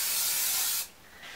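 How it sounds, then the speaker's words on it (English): A steady hiss of hairspray from an aerosol can onto an updo hairstyle, close and continuous for under a second, then stopping into quiet room noise. "just spray some hairspray on it if you want to"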